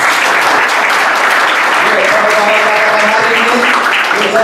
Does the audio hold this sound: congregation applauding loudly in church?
yes